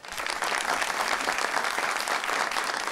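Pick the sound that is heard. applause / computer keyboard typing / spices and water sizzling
applause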